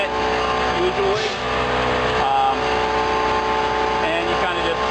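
Steady, loud mechanical roar of a blower unloading a pneumatic bulk tank trailer at Michigan City, continuous and droning with tonal hum and engine-like whine throughout, with voices faintly present underneath.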